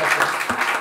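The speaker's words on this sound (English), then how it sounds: "let's give a big applause to Annalisa" Audience applause at the end of a roundtable session, a brief burst of dense clapping from a room of people, close and steady.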